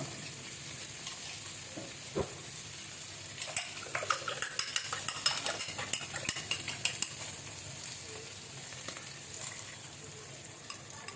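Egg frying in a pan, a quiet sizzle that grows into a rapid crackle and spatter of popping oil, with a single clink of a utensil early on.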